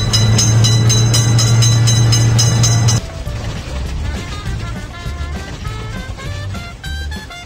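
A cartoon train passes with a loud, steady, tonal rumble that cuts off abruptly, leaving a lighter jingling electronic music bed.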